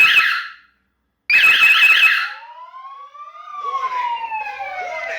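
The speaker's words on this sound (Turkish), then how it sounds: "Öncelikle alarmımızı kuruyoruz." A loud electronic security alarm siren on a video alarm system blares in two bursts with a brief silence between, then shifts into sweeping, rising and falling wails.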